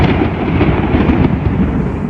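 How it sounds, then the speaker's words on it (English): Thunder from a very close lightning storm during a downpour, a loud continuous low rumble that fills the whole moment without letup, no speech. "Wow, this is like a very close lightning storm."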